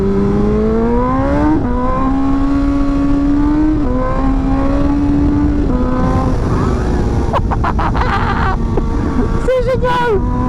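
A 2024 BMW M1000XR motorcycle engine, 210 hp, drones and revs with rising and falling pitch, ending in a burst of sharp crackling pops from exhaust backfires.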